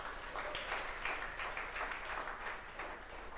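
A church congregation applauds in a continuous, even wash of clapping from many hands, moderately distant and fairly soft, holding steady without pause; no talk.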